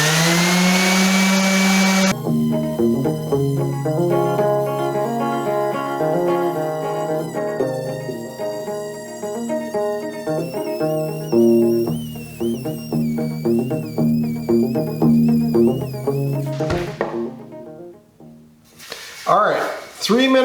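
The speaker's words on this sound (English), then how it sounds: "I've got 80 grit sandpaper on my random orbital sander" A powerful random orbital sander with 80 grit paper working an end grain cutting board, a loud sustained whine that shifts in pitch as pressure changes, cutting out near the end with a short burst after.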